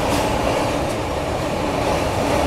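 The Ranchi Rajdhani Express running slowly through Naini Junction at night, a loud, constant rumble of rolling wheels heard from inside the train, with no pause throughout.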